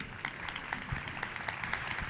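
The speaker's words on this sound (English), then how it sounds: "Ladies and gentlemen, I ask you an applause to Dr. Richard Munang" A conference audience gives a faint, thin round of clapping for a climate speaker, steady sparse claps heard at low level over a muffled room.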